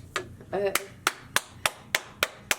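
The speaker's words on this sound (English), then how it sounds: "You should clap." A single hand clap marks the start of a podcast recording, followed by a steady series of sharp, evenly spaced claps, close and loud, after a brief murmur of voice at the beginning.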